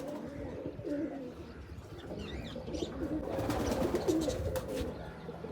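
Several pigeons at a loft coo in low, rolling bursts, fairly close and continuous, with some rustling and faint chirps mixed in.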